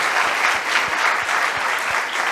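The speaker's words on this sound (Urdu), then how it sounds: "ہر ایک خداوند کے جلال کے لیے تالی بجا کر بتائے کہ کتنی سمجھ اس کو آئی ہے اور وہ ریڈی ہے۔" A church congregation claps together during a Sunday service, with dense, steady applause that keeps going throughout at close range, and no voices stand out above it.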